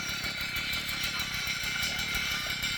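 A small Earth Cultivator tiller engine idles close by with a steady, buzzy, rapid chatter and constant loudness throughout, no voices over it.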